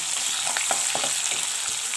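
Onions sizzling in hot oil with cumin, dried chillies and cardamom, a loud, steady frying crackle close up, with scattered stirring scrapes and clicks and no talking.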